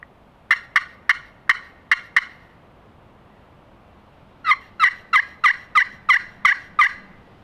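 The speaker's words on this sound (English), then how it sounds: "Yeah, that was a gobble." A wild turkey gobbles during a late-season public land turkey hunt, a series of six sharp rattling calls, a pause, then a louder burst of about eight more, fairly close in a quiet outdoor setting.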